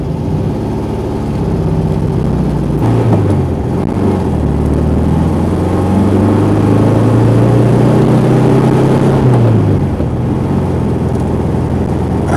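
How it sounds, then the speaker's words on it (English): A 1968 VW Karmann Ghia with dual carbs on a test drive: a loud, continuous engine drone from inside the car, the pitch climbing steadily as it accelerates through a gear, then dropping at a shift, with no talking. "all I'm pretty much doing with this test drive is making sure the trans is working, the clutch is hopefully better, and the shifter."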